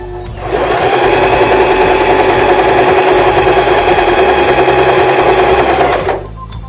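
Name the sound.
sewing machine sewing a zigzag stitch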